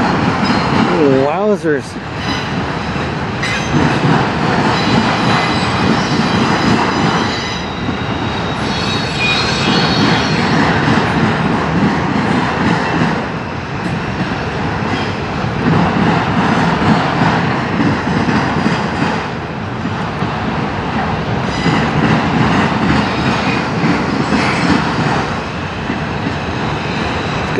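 A long Norfolk Southern or CSX freight train rolls past steadily at close range in Fostoria, Ohio, with continuous loud rumble, rhythmic wheel clatter and a brief squeal near the start, while a person exclaims briefly.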